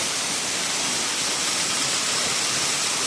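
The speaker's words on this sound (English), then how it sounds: "I'm literally right next to the waterfall." Right beside a waterfall, a loud, steady rush of falling water fills everything with dense, unbroken hiss and roar, close and constant.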